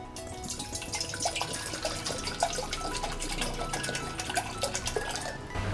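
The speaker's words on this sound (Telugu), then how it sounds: "వాటర్ వేసుకుందాం" Water runs steadily from a tap into a kadai with splashing and light drips, close by and moderately quiet, with no voices.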